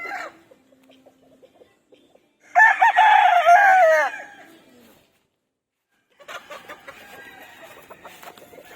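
Gamefowl roosters at a farm, one crowing loudly and close, with scattered clucks before it and a more distant, fainter round of crowing and calls afterward.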